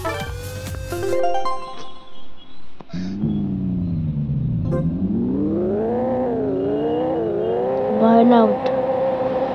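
A video game car in Pixel Car Racing does a burnout: a synthetic engine revs up and wavers in pitch, with a rising whine and some chiming game tones early on.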